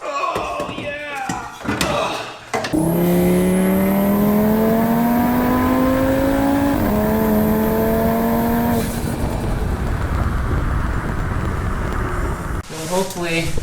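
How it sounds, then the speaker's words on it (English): A sheriff's car roars past close by with a rising then falling engine tone, loud for several seconds before fading, with voices around it. "We're getting passed by the sheriff."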